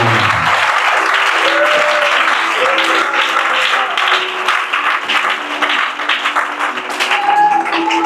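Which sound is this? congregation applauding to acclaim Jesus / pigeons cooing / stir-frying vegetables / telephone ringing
congregation applauding to acclaim Jesus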